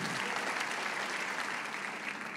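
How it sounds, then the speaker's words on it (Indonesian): A church congregation claps steadily, dense and sustained applause throughout, with no pauses. "Tepuk tangan dong buat Tuhan."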